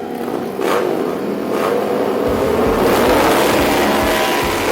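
A flat track racing motorcycle engine revs hard at the start of a night race, a loud sustained roar that climbs and thickens as other bikes join in, with steady mechanical rumble throughout.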